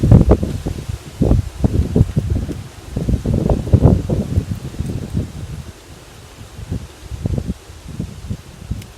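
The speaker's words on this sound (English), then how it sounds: "Rowdy wind, what did I tell you?" Gusty wind buffets the microphone outdoors on an overcast day in Central Florida, a steady rumbling roar that swells and eases in bursts with a rustling texture, no voices present.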